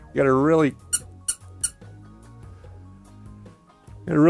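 A rubber duck toy squeezed by hand gives three sharp, bright squeaks in quick succession, framed by a person talking just before and after.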